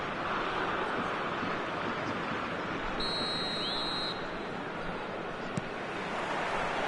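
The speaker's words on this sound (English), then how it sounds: "There's the whistle." A referee's whistle blows once at kickoff in the eFootball 2026 video game, a single sustained shrill tone over a loud, steady roar of stadium crowd noise.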